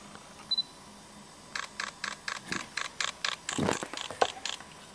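A Fujifilm FinePix S1000fd fires a rapid burst of shutter clicks in continuous mode: about a dozen evenly spaced, close mechanical snaps, preceded by a short electronic beep, with no talking.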